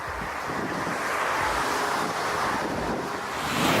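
Strong crosswind from Storm Xavier sweeps across the runway at Dusseldorf airport as an A380 lands, a loud, continuous roar of gusts buffeting the microphone, surging toward the end.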